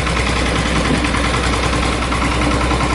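A Scania K40 truck's diesel engine idles close by, a steady low throbbing rumble with a constant mechanical drone and no voices.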